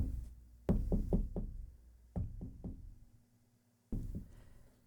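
Knuckles rapping on solid oak furniture in two quick bursts of four and three sharp, close knocks, then a final pair, each with a dull woody thud in a quiet room.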